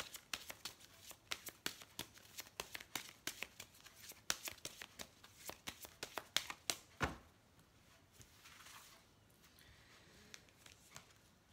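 A tarot deck is handled up close, with a run of quick papery card flicks and shuffling taps, then a single card is drawn and the sound settles into quiet rustling.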